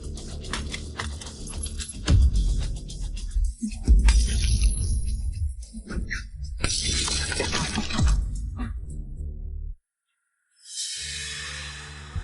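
Glass on an Audi car is smashed in repeated heavy crashes and shattering bursts over dense clatter, then a sudden silence and a hissing tail.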